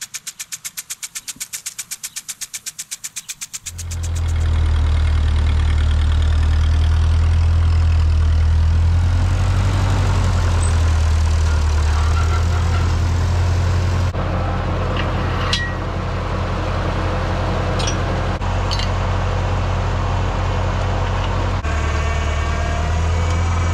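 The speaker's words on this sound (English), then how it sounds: "that's a good time to hop on the tractor, see if I can't yank this old metal brace out of the ground." A tractor engine starts on a farm and settles into a loud, steady idle with a deep rumble right up close, running without pause and with no talk.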